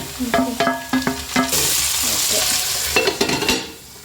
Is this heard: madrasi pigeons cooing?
no